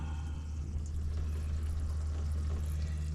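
Hydraulic fluid drains from a Caterpillar 308E2 excavator in a steady, close pouring rush over a low mechanical hum, continuous without pauses or talk.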